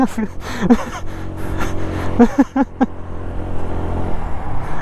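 A Yamaha Zumo scooter being given throttle and pulling away. A gasp and a few short vocal bursts come first, then a steady, close, rising engine drone carries on alone.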